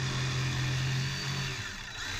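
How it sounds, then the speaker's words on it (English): A power jigsaw cuts through a wooden deck board beside a conduit during deck replacement, a loud, close, steady motor whine with buzzing blade chatter that eases slightly toward the end. "Then I'll use the jigsaw, cut to the line on either side where the conduit goes."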